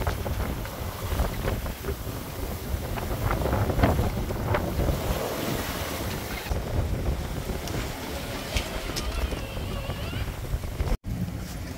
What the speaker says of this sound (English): You can feel like the wind gusts are reducing all the time